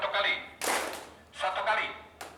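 A group of people on a trip to Dieng and Jogja clap hands once on command, a sharp burst of claps amid talking voices before and after.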